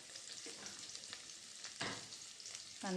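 Onion sautéing in a pan with crushed garlic and chili, a quiet soft sizzle with a few sharp stirring scrapes and clinks, close but faint.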